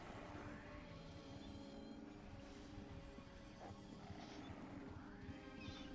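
A horse whinnies in the fantasy online game Ultima Online, faint neighing calls rising and falling a few times over a steady low background of game ambience.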